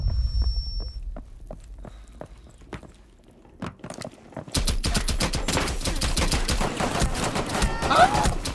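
Scattered single shots give way to rapid, dense bursts of gunfire in Rainbow Six, loud and continuous, with crisp synthetic-sounding impacts.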